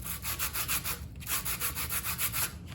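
A block of wood is sanded by hand along the grain in a workshop, with even back-and-forth rasping strokes in a quick regular rhythm, close and fairly quiet, with no voices.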